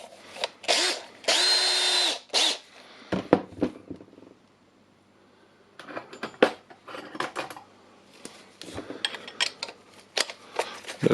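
A Makita cordless drill being worked on for chuck removal whirs in short bursts, first a steady two-second run, then a pause, then a series of quick stuttering triggers with clicks between them.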